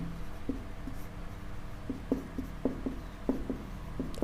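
Chalk or marker strokes on a board tap and scratch in short, irregular bursts, fairly faint and close, with no talk.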